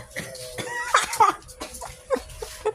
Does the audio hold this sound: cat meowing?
no